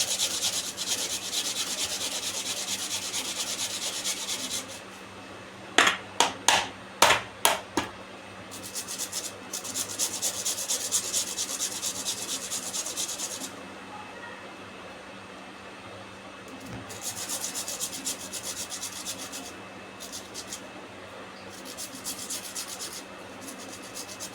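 A potato is grated by hand for soybean vada, a soft rhythmic scraping that comes in bursts with quiet gaps between them and a few sharp taps midway, alone in a home kitchen.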